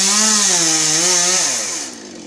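A chainsaw revs loudly while cutting a pine tree, holding a steady high whine before the pitch drops and the engine eases off near the end.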